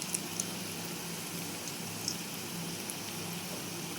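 Nimki pastries deep-frying in oil over medium-low heat give a steady, soft crackling sizzle with faint scattered pops, even and continuous throughout.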